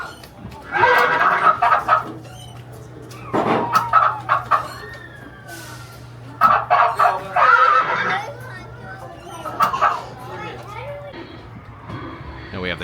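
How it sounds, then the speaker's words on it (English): Chickens cluck and cackle in repeated loud bursts near a horse barn at a frontier fort, with a brief whinny and a steady low hum beneath, while people talk nearby. "There's some chickens right there."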